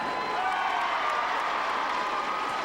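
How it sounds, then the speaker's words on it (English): A crowd at a high school girls' basketball final fills the gym with a steady, noisy roar during free throws, continuous and fairly loud with no break. "Now you can hear the crowd really making a lot of noise while they're shooting at the line."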